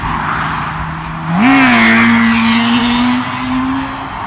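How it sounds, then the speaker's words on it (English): A vehicle revs hard while pulling a wheelie on a road, its engine note jumping sharply and then holding a high, steady whine before easing off, close and loud over a constant background rumble. "He did a wheelie."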